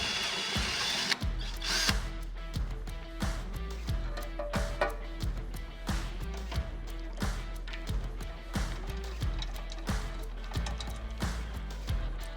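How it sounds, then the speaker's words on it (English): A power drill bores a pilot hole for a rivet nut in a radiator fan shroud on a classic Camaro build, sounding as a series of short, close, repeated bursts with brief pauses between them. "I'll get a pilot hole drilled and then the rivet nut sized hole"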